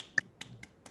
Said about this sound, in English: Love the clap for yourself.